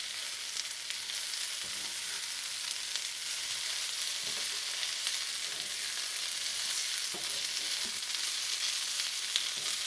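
Chicken stir-fried with capsicum and onion sizzles steadily in a hot pan for fajitas, a continuous close frying hiss with occasional soft stirring scrapes and no talking.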